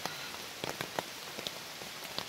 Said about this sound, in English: It is still raining. It is pouring it down.